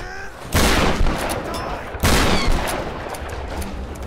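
Shotgun fire in the Tomb Raider reboot: two loud, booming blasts about a second and a half apart, each followed by a rumbling decay.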